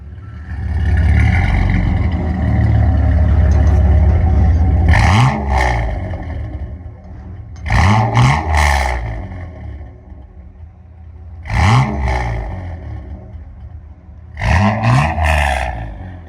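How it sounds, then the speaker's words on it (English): A 1996 Dodge Dakota Sport's 3.9L Magnum V6 idles with a deep, throaty Flowmaster Super 10 exhaust rumble, then revs sharply four times, each burst climbing and falling back, loud and close, around 105 decibels. "All right, sound decibels. Right at 105-ish. It's a good, clean sound on it."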